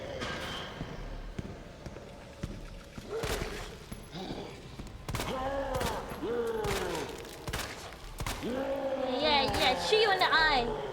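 Pistol shots fired in Resident Evil 2, several sharp cracks at irregular intervals mixed in with loud, excited talking and game sounds throughout.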